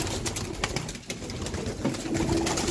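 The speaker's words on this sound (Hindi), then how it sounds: "टैडी कबूतर दोस्तों" Teddy pigeons coo close by in soft, repeated low calls, with faint rustling and other bird sounds in the background.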